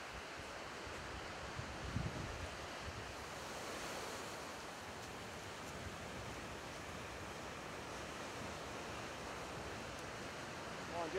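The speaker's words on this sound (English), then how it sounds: "We have to dodge the waves." Ocean surf rolls steadily onto a beach during a surf fishing outing, a broad, continuous wash of breaking waves mixed with wind buffeting the microphone, fairly faint and steady throughout.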